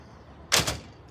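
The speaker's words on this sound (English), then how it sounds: "Don't slam the dang door." A door shuts with a single sharp thud and a brief rattling follow-on, close and loud against quiet room tone.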